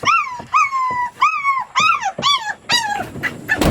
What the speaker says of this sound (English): We got a little yipper back there.